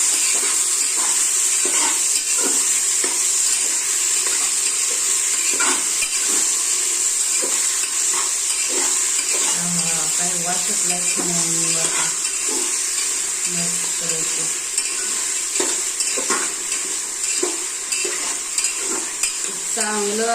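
Mutton curry masala is stirred in a pan. A loud, constant frying hiss carries repeated spoon scrapes and knocks against the metal, with occasional brief voices in the background.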